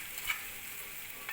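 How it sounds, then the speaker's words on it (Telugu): Food sizzling and being stirred in a thick-bottomed bronze pot while cooking ponaganti leaf curry, a steady soft frying hiss with faint scraping touches, close and quiet, no talk. "ఇది కంచు గిన్నె అండి, చూసారా సౌండ్ ఎలా వస్తుందో"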